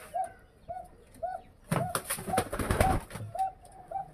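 A pair of deshi pigeons coo in repeated soft, rounded calls at a steady rhythm, close by, with a burst of fluttering or rustling in the middle of the calls.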